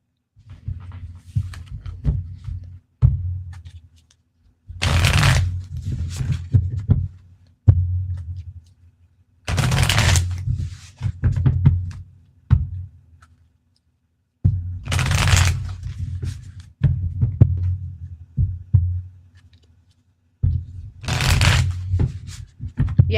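A deck of oracle cards is shuffled repeatedly in a quiet room. Each riffle is a rapid, close, papery flutter lasting a couple of seconds, separated by short silences and soft card taps.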